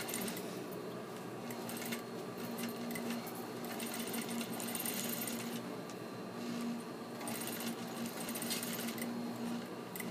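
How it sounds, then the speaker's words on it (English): A sewing machine runs steadily as it sews a stay stitch beside the stitch line on fabric, giving a quiet, even mechanical whir with a fine rhythmic patter and small pauses. "I'm going to sew this right beside my stitch line"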